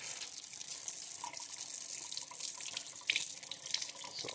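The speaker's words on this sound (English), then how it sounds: "So I'll wash my hands." Tap water runs steadily into a sink while hands are washed during Nigerian egusi soup cooking, a continuous close splashing stream with small splattery bursts and no talking.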